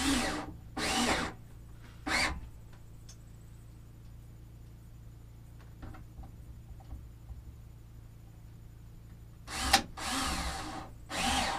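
Cordless power drill driving screws to mount solar battery equipment in a cabin, with several short whirring bursts near the start and more near the end, separated by quiet pauses.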